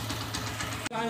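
Honda TMX155 motorcycle engine running before an overhaul, a steady rough idle with a rhythmic knocking pulse, close and loud, cut off abruptly near the end as a voice begins.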